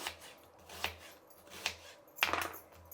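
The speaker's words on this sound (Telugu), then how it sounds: "ఎర్రగడ్డ కూడా పెద్ద సైజే కట్ చేస్తున్నానండి" An onion being cut into large pieces on a board, four distinct knife chops in a steady uneven rhythm, quiet and close with no talk.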